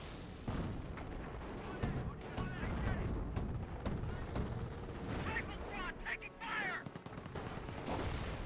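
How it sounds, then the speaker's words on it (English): Howitzer artillery in Company of Heroes, a real-time strategy battle, with repeated booming blasts and gunfire crackle beneath a commentator's continuous talk. "for the first time, the on-map howitzer of the British doing some decent work"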